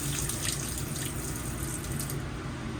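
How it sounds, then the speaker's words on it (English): RV kitchen faucet in a 2023 Forest River Salem FSX Platinum 270RTKX toy hauler running into a stainless steel sink, a steady splashing hiss that holds evenly, then cuts out near the end. "to draw water from the unit, you just pull back on the handle."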